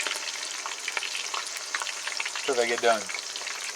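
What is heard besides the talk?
bar food deep frying in hot oil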